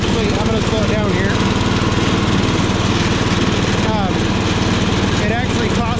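A Power King garden tractor mows beside a field, its engine droning loudly and steadily up close throughout, with a voice talking over it.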